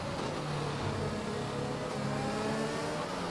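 Race cars including a Ferrari on the Singapore circuit in a racing game, a dense, continuous, loud engine roar with several overlapping high revving tones from cars running close together.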